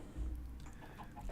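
Chickens clucking in a video game, several birds being led toward a coop; soft, low-level fowl calls with a few brief bursts, continuing steadily for about a second with no talk.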